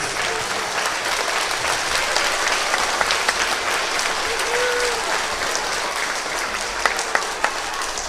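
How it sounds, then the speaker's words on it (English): A school assembly audience of children and adults claps in steady, even applause throughout, close and continuous, with no break. "Boys and girls, let's give these people a round of applause."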